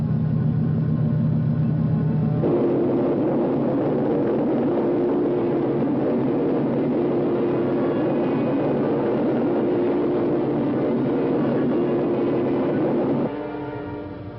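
Spaceship engines in a science-fiction film, a loud continuous rumbling drone that shifts pitch partway through and holds steady for over ten seconds, with no talking.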